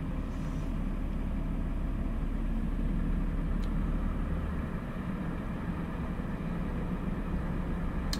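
Scania truck engine idling in a steady low rumble, its RPM creeping up slowly as a constant close drone, with no talking.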